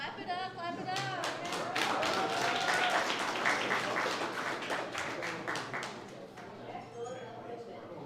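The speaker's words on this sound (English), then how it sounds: "Clap it up, clap it up." Applause and scattered clapping from an awards ceremony crowd as a high school football player is honored, running steadily under an announcer's voice speaking through a PA, with cheers mixed in.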